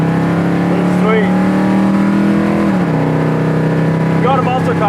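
A 1970 Pontiac GTO muscle car engine rumbles loud and close with a steady deep idle, dipping in pitch partway through, while people talk over it.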